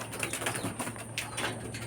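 Soft cooing and rustling of racing pigeons nearby, with faint wing flutters over a low background hum.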